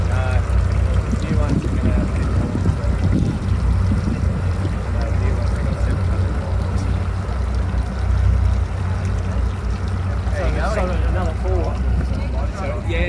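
Powerful tour boat engine at speed on open water near a coastline in Tasmania, a loud steady roar with wash and wind, while people talk over it.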